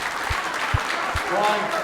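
A crowd at an All-Ireland 60x30 men's handball final applauds after a shot, a short burst of clapping beneath a commentator's voice, with a few sharp thuds from the court.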